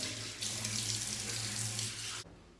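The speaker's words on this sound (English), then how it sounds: "So I've warmed up this cloth under the warm water." Warm water runs steadily from a tap onto a washcloth, a continuous close hiss that starts abruptly, holds for about two seconds and then cuts off sharply.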